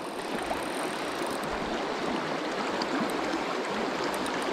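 Fast, high river water rushes steadily and loudly at a trout fishing spot, with a broad continuous roar and no pauses or voices.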